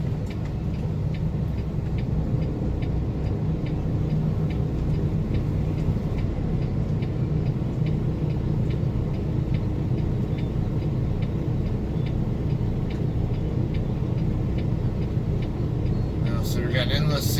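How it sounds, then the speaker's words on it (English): Steady road traffic of many cars heading toward a freeway in San Antonio, a continuous broad rumbling wash of engine and tire noise heard from inside a delivery truck, with a faint regular ticking throughout. "Sea of cars coming down toward the freeway"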